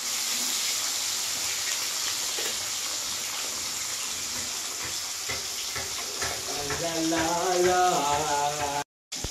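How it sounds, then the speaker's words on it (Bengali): Fresh fish fried piece by piece in hot oil give a continuous sizzle with intermittent crackles and stirring noises, growing busier toward the end before a brief cut-off. "এবার আমি এক একটা মাছকে ভাজবো ভালোভাবে"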